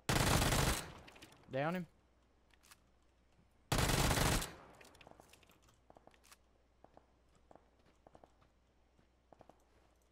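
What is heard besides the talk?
Uzi submachine gun fire in a video game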